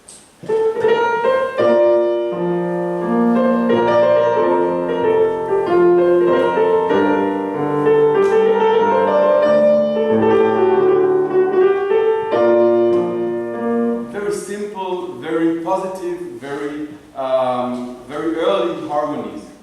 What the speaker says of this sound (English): there is a very well-known medieval dance called Romanesca, and it sounds like this.